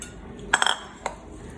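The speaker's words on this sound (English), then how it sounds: "We're supposed to stir this with a fork, I assume, to try not to break these up anymore." A fork stirs rice, beans and stock in a cooking pot, making a short cluster of bright metallic clinks followed by one more lone tap, close and clear against a quiet background.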